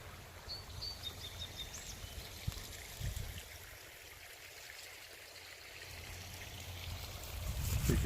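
Trickling brook near Anmore and Port Moody, heard as a steady, soft wash of running water with a low rumble that swells toward the end, no talk.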